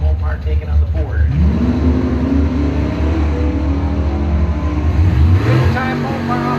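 Mopar and Ford drag race cars launch off the line at a bracket race, engines roaring loud and close with rising revs and a second surge near the end, under a steady bed of crowd or announcer talk.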